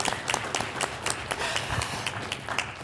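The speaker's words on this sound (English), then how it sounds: "give yourself a round of applause" Applause from the public at a Las Cruces city council meeting, a short round of moderately loud clapping from a crowd in a meeting room, irregular and steady for a few seconds.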